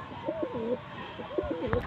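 Plain Laldum pigeons coo in soft, rolling, repeated phrases at close range, several low burbling calls spread across a couple of seconds with faint background noise.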